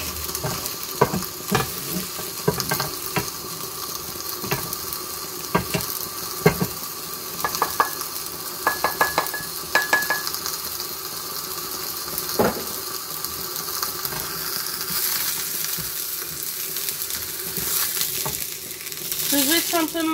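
Peppers fry in a pan over a gas flame, their skins crackling and popping in a steady close sizzle, punctuated by clinks and scrapes of stirring, with the hiss swelling toward the end.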